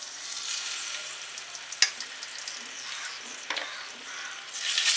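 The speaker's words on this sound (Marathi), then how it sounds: "आता आपण फोडणी टाकणार आहोत. त्याच्यासाठी मी 2 ते 3 चम्मच तेल टाकते." Ginger-garlic paste hits hot oil for a prawn and cashew korma tempering, giving a steady bright sizzle with a couple of sharp crackling pops, close and continuous, swelling louder at the end.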